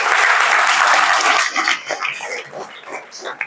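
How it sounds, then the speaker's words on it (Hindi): Seminar audience clapping for a student during a motivational talk: a dense, loud burst of applause for about a second and a half that quickly thins into scattered, fading claps and room noise. "तालियां बजाइए इनके लिए"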